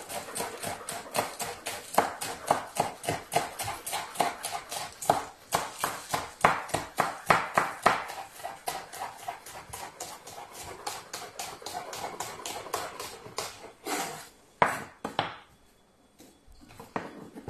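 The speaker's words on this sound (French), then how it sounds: "je vais venir hacher un oignon vert" A knife chops a green onion on a board in quick, rapid, evenly paced close strokes that run steadily, then slow to a few scattered chops and silence at the end.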